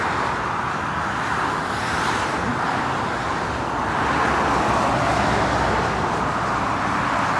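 Scania truck passing by on a road, a loud, close, steady engine and tyre roar that swells slightly and holds throughout.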